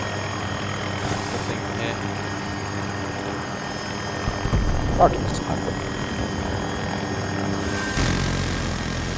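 A helicopter in an online shooter game drones steadily throughout, a continuous rotor and engine roar close by, with someone talking over it and brief gunfire-like bursts.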